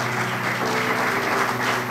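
Congregation clapping together in a church during a testimony service, a steady dense wash of applause lasting the full clip with no talk over it.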